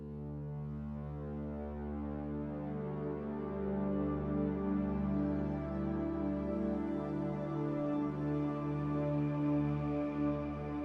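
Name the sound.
synthesizer pad with breathy wind texture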